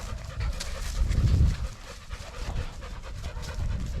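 A dog pants steadily outdoors after a hunt with puppies, rapid breathy huffs close by, with a louder burst early on and a few faint voices in the background.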